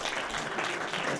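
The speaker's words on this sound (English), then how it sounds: "a round of applause for Shannon as well" Brief applause from a seminar audience at a climate change and global peace discussion, a short burst of moderately loud clapping heard alone.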